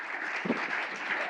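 A final round of applause for the presenters at a competition event, steady moderate clapping from a seated audience heard at some distance, with one faint low thump partway through.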